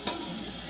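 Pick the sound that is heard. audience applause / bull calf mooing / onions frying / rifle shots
onions frying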